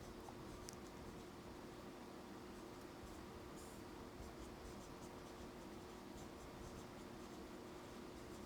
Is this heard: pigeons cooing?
no